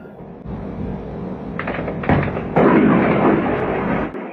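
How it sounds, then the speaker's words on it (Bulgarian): An explosion caught on camera during the Russia-Ukraine war, heard as a sustained heavy rumble with sharper bursts and cracks, broad and loud, and no talk over it. "записах експлозия"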